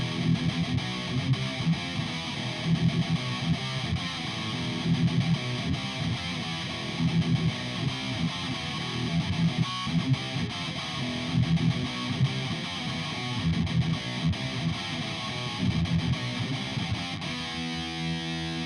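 Heavy distorted guitar runs through a free ENGL-style LE456 amp plugin, playing dense, continuous, loud riffing for nearly twenty seconds with no talking.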